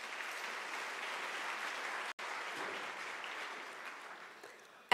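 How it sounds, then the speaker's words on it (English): A graduation ceremony audience at the University of South Africa applauds in a broad, steady wash of clapping from a large crowd, with a brief gap midway and a sharp burst at the very end. "May you clap your hands for yourselves."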